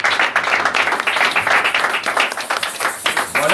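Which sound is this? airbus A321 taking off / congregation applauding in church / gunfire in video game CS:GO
congregation applauding in church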